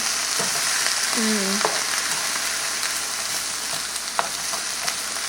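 Tomatoes sauté in a pan with a steady, close sizzle and crackle, broken by a few scraping stirs and clicks of a utensil; a brief squeaky tonal sound briefly rises over the frying.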